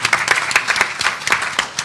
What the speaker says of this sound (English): all of you should clap for me as well